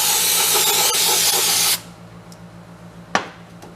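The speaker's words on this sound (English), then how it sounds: "Get some carb clean." A spray can of carburetor cleaner hisses loudly in one close, steady burst for under two seconds, on a Kohler engine being torn down, followed by quiet workshop rustling and a single sharp knock.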